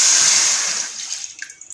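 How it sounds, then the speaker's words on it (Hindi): Water poured from a vessel into a cooking pot over two cups of sugar for jalebi syrup, a loud steady gushing stream that thins and breaks into scattered splashes and drips near the end. "इसमें 2 ही कप में शामिल करूंगी पानी के।"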